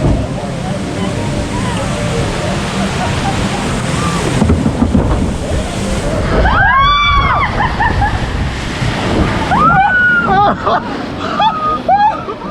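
Rushing, splashing water crashes loudly over a ride, while people scream and shout through the drenching roar.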